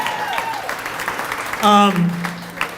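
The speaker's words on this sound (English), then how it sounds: "You guys did it, give yourself a big hand." An audience claps briefly in a large room while someone speaks over the top, the applause swelling for a moment then fading under his voice.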